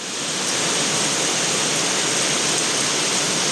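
Heavy rain falls steadily outdoors at a wall repair site, a loud, uniform hiss that swells in at the start and holds without a break, with no voices.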